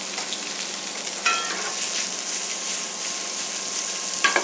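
Chilean sea bass sizzles steadily in a hot pan while being basted, a dense continuous frying hiss with a few brief clinks and spoon scrapes near the start and end.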